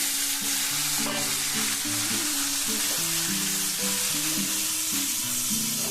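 Onion sizzles in hot oil with garlic in a pan, a continuous close crackling fry with small stirring scrapes and no talking throughout.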